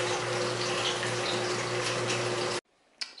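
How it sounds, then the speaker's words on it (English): A keg washer sprays water inside a beer fermenter during sanitizing, giving a loud, steady hiss over a pump hum that cuts off abruptly, followed by a brief faint splash. "Sanitizing the fermenter with the Mark's keg washer"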